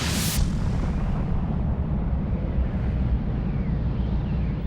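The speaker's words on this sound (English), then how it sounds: "we see the outward explosion as a supernova" A supernova explosion rendered as a sound effect: a sharp bright burst at the start gives way to a heavy, continuous low rumble that rolls on steadily and loud with no voices.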